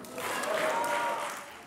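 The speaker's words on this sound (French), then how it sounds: "Applaudissements" Applause in the French Senate chamber right after a vote adopting the abortion-rights constitutional text, a broad steady wash of clapping lasting under two seconds, with some voices mixed in.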